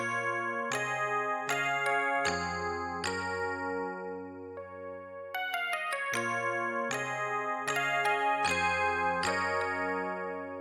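A sampled Dig E electric piano preset from MELODIES plays a rolled, strummed chord progression, bell-like tones ringing and overlapping with fresh chords arriving every second or so, steady and clean without voices.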